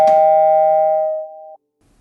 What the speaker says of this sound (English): The bell rings again.